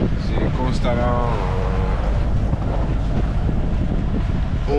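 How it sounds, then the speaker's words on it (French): Loud, steady wind buffets the microphone aboard a sailboat under sail, with a voice briefly audible early on over the constant roar. "On fait de la voile, il y a du vent"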